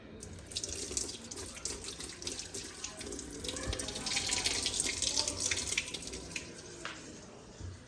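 Water running steadily from a kitchen or bathroom tap while a child washes hands, a continuous close splashing stream that swells in the middle, with a few faint voices in the background.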